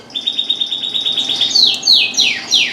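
Young birds chirp inside a fly cage at the end of the breeding season, giving a fast run of bright, high chirps that gives way to louder, sweeping calls, close by and with no talking.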